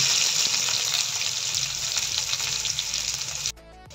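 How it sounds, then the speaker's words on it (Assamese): Panch phoron spice mix spluttering in hot oil for an Assamese fish dish, loud continuous crackling sizzle close up, cutting off abruptly near the end. "এইখিনি এতিয়া মই তেলত ধুনীয়াকৈ ফুটাই ল'ম"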